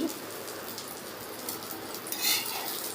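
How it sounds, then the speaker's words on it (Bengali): Beaten egg with chopped onion, chilli, ginger-garlic paste and turmeric fries in a pan for an omelette, giving a steady, soft, close hiss of sizzling with a brief swell near the end. "ডিমটা ভেজে নিচ্ছি"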